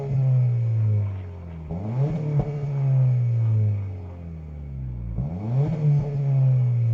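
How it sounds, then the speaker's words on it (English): A Honda Civic Si sedan engine revs up and settles back to idle twice, close and steady, with the rising pitch sweeping up and dropping away again in a smooth pattern. "let's get this thing cranked to see what it sounds like"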